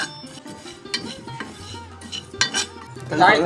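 Cumin seeds are stirred in a pan with a metal spoon. Short scrapes and light clinks repeat unevenly, and a busier rattle of seeds and utensil comes near the end.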